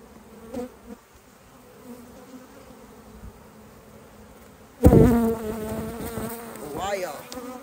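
Honeybees around an open beehive give a faint low drone at first, then a sudden loud swell of dense buzzing as many bees fly up close, wavering and continuous.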